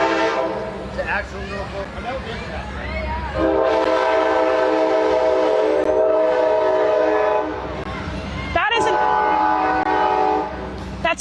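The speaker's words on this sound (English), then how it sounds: "That's the horn, guys." An Amtrak passenger train sounds its loud, sustained horn as it pulls into the station in Manassas, Virginia, blasting close by with rail rumble beneath and someone talking over it.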